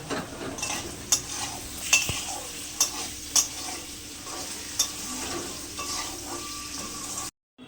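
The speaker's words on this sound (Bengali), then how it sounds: "আলু ভেন্ডি দুটোই হলুদ লবণ দিয়ে ভেজে নেব" Potatoes and okra frying in oil with turmeric and salt give a steady sizzle, broken by sharp clinks of a spatula stirring against the pan roughly every second, close and alone.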